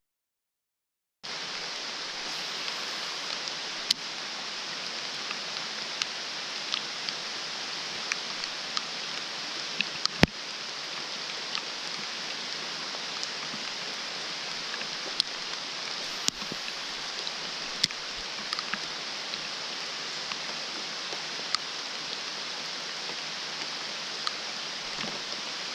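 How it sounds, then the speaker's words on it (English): Pouring rain on Lake Guntersville, a constant hissing wash of water with scattered crisp droplet ticks on top, steady and fairly loud, no voices. "Pouring rain."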